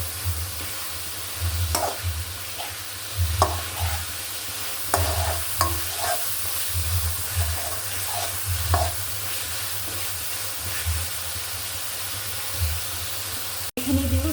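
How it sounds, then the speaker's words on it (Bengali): Potato pieces fried with spices in a pan, a continuous close sizzle broken by repeated spatula scrapes and stirring knocks, heard alone without speech, ending in a sharp click. "মশলা সাথে একটু ভেজে নেব"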